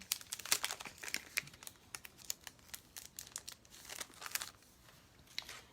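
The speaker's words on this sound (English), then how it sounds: "I need to take it out of the packaging" A greeting card being pulled from its plastic packaging, with close, soft crinkling and rustling in irregular bursts throughout.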